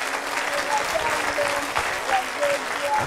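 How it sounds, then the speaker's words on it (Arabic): An audience applauds on a children's television programme, a steady, dense clapping that fills the whole moment at moderate loudness. "تصفيق كبير لصديقي جواد محبوب."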